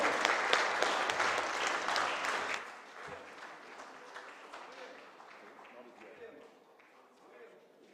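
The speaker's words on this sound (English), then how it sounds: "let's give him a big round of applause." A crowd at the opening ceremony of the Under-23 World Squash Championship gives a hearty round of applause that is full at first, then tapers into lighter, distant clapping, with voices faintly underneath.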